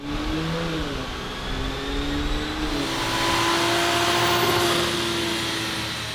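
A 2020 Toyota Supra making a full-throttle dyno pull, its engine droning loud and steady as the revs climb in a long rising sweep, with no talking over it.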